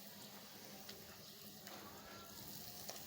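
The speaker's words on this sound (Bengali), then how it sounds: "মশলাটা কষায় নিচ্ছি" A spice paste of turmeric, coriander, chili, cumin and ginger-garlic paste fries in a pan with a faint, steady sizzle and occasional small crackles and stirring scrapes, low and continuous.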